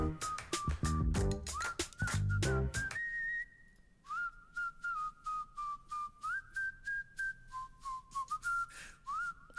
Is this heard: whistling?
yes